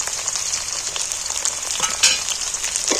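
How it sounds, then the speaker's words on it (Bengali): Chopped ginger and garlic sizzle and fry in hot oil in a pan, a steady close crackling hiss with occasional stirring scrapes throughout, no voices. "রসুন কুচোনো তুলে দিচ্ছি এর মধ্যে।"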